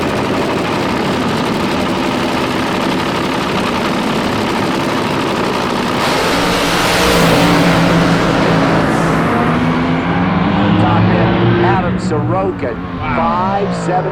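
AA/Fuel dragster with a small block Chevy engine racing at the NHRA California Hot Rod Reunion, a steady loud engine roar that swells and shifts pitch, with an announcer talking over it throughout.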